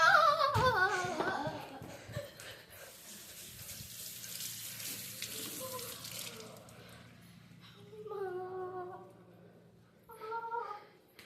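Water runs from a tap while someone washes up, a steady close splashing that fades into a softer trickle, with voices talking over parts of it.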